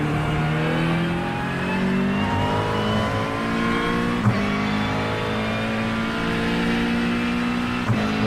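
A GT3 race car engine at Le Mans in iRacing, droning steadily with rising and falling harmonic pitch as it revs through the gears, with brief shift blips, loud and continuous throughout.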